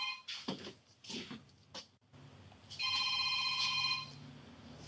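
A telephone rings in a house during a deputies' property search, preceded by a few knocks and handling bumps, then a sustained electronic trilling ring for over a second, fairly close but modest in level.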